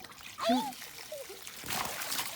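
Water splashes as balls are tossed into a filling backyard pool, with a few short splashes and trickling between children's voices chattering nearby.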